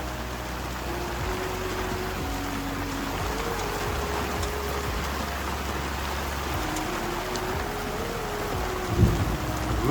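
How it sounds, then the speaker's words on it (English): Steady rain patters on a sailboat during a thunderstorm, with a dense, even hiss of drops, low rumbles underneath and a brief knock near the end. "It's been a long time since I've been on the boat during a thunderstorm."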